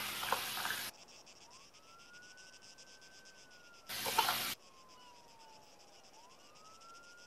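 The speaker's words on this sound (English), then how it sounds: "Sirens." A police siren in the Arma 3 video game wails with a slow rising and falling pitch sweep, moderately faint, broken by two short bursts of loud static noise.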